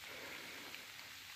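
Heavy pouring rain falls outside a cave entrance at a state park, a dense, steady wash of drops hissing evenly on the surroundings with no other sounds or voices.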